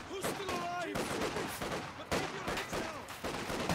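Dense, sustained MG34 machine gun fire rattles through a strategy video game battle, near and loud, with overlapping bursts and faint voices mixed in.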